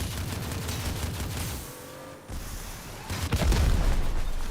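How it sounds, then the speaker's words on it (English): Shotguns blast in the vehicle combat game Crossout, a dense run of booming gunfire and explosions with a brief lull before heavier, louder shots build again. "these are some crazy shotguns"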